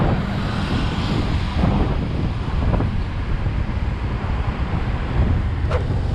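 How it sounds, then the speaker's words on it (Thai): Strong, cold wind near the Mae Sai district office in Thailand buffets the camera microphone, producing a loud, continuous rumbling roar with gusty swells. "นี่ลมมันก็จะเข้ากล้องหน่อย เพราะว่าลมมันค่อนข้างแรง"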